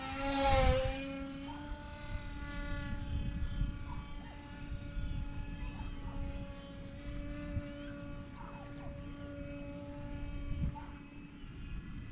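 A Hobby King Skipper RC propeller plane buzzes past in a low pass at close range, its high electric motor whine rising loudly at first and then holding steady as it flies by.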